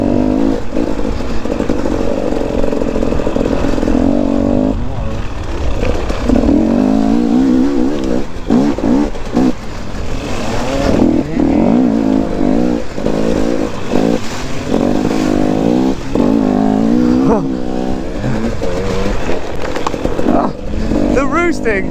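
Enduro dirt bike engines revving hard at a muddy enduro event, roosting mud, loud and continuous with rising and falling pitch as gears change, while people talk over the engine noise throughout.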